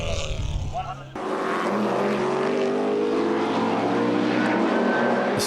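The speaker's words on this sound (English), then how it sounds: "This car sounds so wonderful." A BMW race car at Hampton Downs circuit sounds off with a loud, sustained engine howl that cuts in abruptly after a brief voice and stays strong and close to the end.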